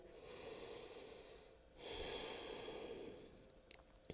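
Slow, deep yoga breathing during a balancing flow class: two long, close breaths, each a drawn-out airy rush through the nose, with a short pause between them and no talking.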